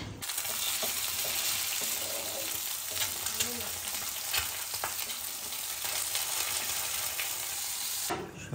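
An egg fries in a pan at breakfast, giving a steady, even sizzle with faint crackles throughout, fairly quiet and close, with no one speaking.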